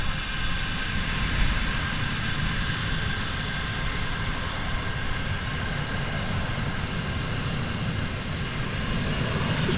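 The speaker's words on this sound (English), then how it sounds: "Got a Frontier flight coming in." A Frontier Airlines jet arriving at DFW Airport makes a continuous, even engine roar at moderate distance, holding a constant level for about ten seconds with no voices.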